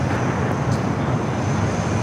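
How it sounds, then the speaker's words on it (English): A United Boeing 787 Dreamliner arrives at Los Angeles LAX, a brief, steady wash of loud engine roar and rushing wind noise. "Got that United Dreamliner up next for arrival"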